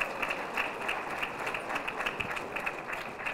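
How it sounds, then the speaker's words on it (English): Applause from an audience at a city of Albuquerque news conference held by the mayor, a quiet steady patter of many hands with a faint hum running underneath. "let's give her a round of applause"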